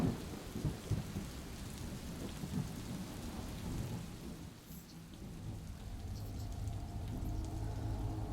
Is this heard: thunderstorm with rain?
yes